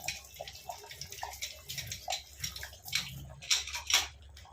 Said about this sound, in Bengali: ঢাকনাটা একটু ধুয়ে নিচ্ছি